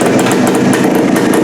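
A 1974 Suzuki TC 185 motorcycle engine runs at a steady, loud idle, a dense continuous mechanical rumble with fast regular pulsing and no voices.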